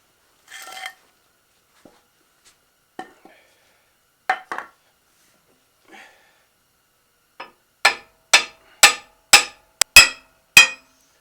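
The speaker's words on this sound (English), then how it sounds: "Might have to use a piece of wood and a hammer" Sharp hammer strikes on a piece of wood driving a part into a Jeep TJ Currie Antirock sway bar install, a few scattered taps at first, then a quicker run of about seven loud, regular blows, close up with no talking.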